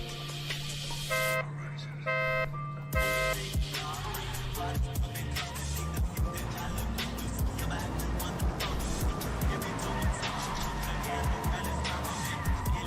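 A Mustang drift car slides around the Okayama circuit, its engine and tire noise roaring under a busy mix of crowd and track sounds. A few brief horn-like tones sound near the start, and a voice talks over it.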